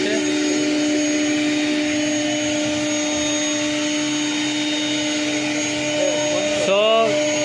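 A computerized design machine runs unattended in a shop, giving off a loud, steady motorized drone with constant whining tones throughout, and a brief voice breaks in near the end.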